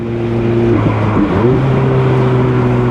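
A 2005 Ferrari F430 Spider on the move, its engine note holding steady, dipping briefly through a gear shift, then pulling on loud and close from inside the car.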